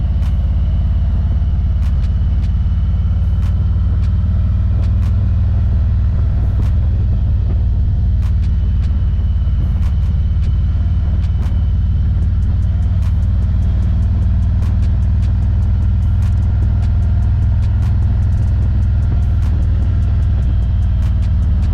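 A Harley-Davidson motorcycle on the road, its engine a loud steady low rumble with wind roar throughout and faint ticking knocks over it.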